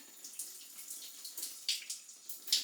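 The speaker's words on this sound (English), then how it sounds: "I'm just applying some water here," Soft wet splashing and dabbing as water is applied to hair, a series of light irregular pats and trickles close up, no talking.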